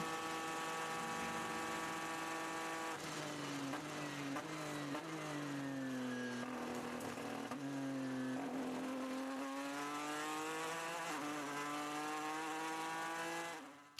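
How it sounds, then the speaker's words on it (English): A GTE Pro race car engine howls on track with strong harmonic tones. The pitch rises and falls through gear changes as the car accelerates and lifts. It is loud and continuous, then fades out at the end. "This is our leading GTE Pro car."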